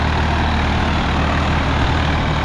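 A Swaraj 855 FE tractor engine runs steadily at close range, a loud, even low-pitched diesel drone with no pauses.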